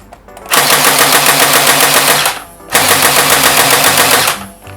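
M249 SAW gel blaster toy light machine gun firing two long, loud, rapid buzzing bursts of about two seconds each, close up with a brief gap between them.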